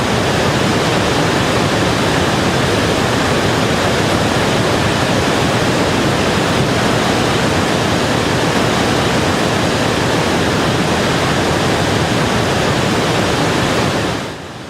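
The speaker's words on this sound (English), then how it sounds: "the deafening sounds of raging water." Raging floodwater of the Llano River roars as a loud, dense, unbroken rush of turbulent water that holds steady throughout before dropping off at the very end.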